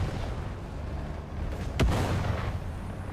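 Aircraft strafing fire hits around a Rooikat MTTD armored car in War Thunder, heard as one sharp, loud impact blast over a rumbling battle background.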